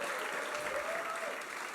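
A church congregation at a worship service in Batam breaks into steady, dense applause that holds at an even level throughout, with a faint sustained tone running underneath.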